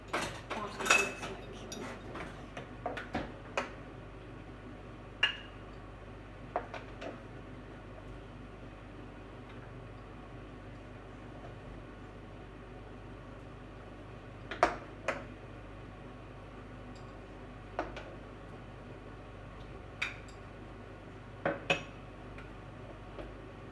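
Dishes and cutlery clink sparsely as seafood chowder is served, with scattered sharp taps and chinks, a small cluster at the start and then isolated clinks every few seconds against a quiet kitchen background.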